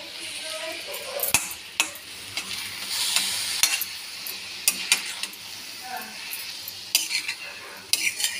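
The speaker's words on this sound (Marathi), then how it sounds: "अशी ही मस्तपैकी परतून घ्यायची." Vegetable curry is sautéed in a pan, a low sizzle broken by repeated sharp scrapes and clinks of the spatula against metal, spaced a second or so apart.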